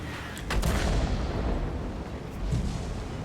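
A tank cannon in World of Tanks fires a high-explosive shell, giving a heavy low boom followed by a rumbling tail, with a second softer thud later, loud and close.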